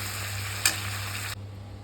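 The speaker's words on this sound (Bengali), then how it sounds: "তো দেখুন হয়ে গেছে আমার মাছ ভাজা" Fish frying in hot oil in a pan, a steady close sizzle with a brief louder crackle, then cutting off abruptly to a quieter background hum.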